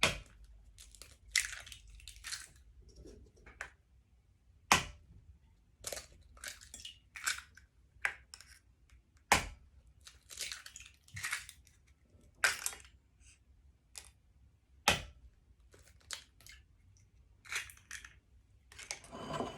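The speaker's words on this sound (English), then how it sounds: "the first thing you want to do is to crack your eggs into the bowl" Eggs are cracked into a bowl in a kitchen, a series of sharp, close taps and crunches of shell spaced a few seconds apart, with soft handling sounds between.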